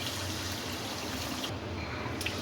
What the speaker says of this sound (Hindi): अब इसमें 1 गिलास के करीब पानी डाल दें